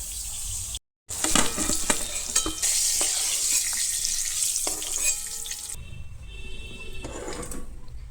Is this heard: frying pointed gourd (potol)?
yes